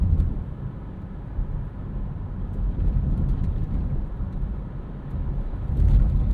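Low, steady drone of a 2026 Subaru Crosstrek Hybrid's 2.5-liter boxer engine running while driving through the city, heard from inside the cabin as a muffled, even rumble with road noise.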